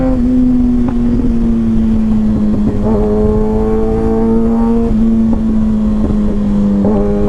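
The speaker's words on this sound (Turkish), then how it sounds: "Abi üçüncü vitesine bayılıyorum bu motorun. Acayip patlatıyor 3'te." A 2022 Kawasaki ZX6-R motorcycle with an M4 exhaust pulling hard in third gear, a loud steady engine drone close by with a slowly climbing pitch and faint pops over wind rush.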